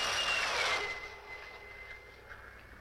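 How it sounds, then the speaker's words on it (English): A jet fighter roars past overhead, a loud broad rushing whine that peaks early and then fades into a steady distant drone with a thin high tone. "even to the piercing eye of radar and the speeding jet fighters"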